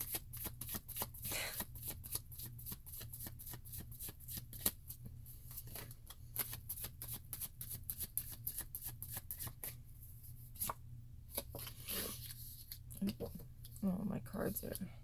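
Old, bent tarot cards being shuffled by hand, a long run of quick crisp riffling flicks close up, with a person talking quietly alongside.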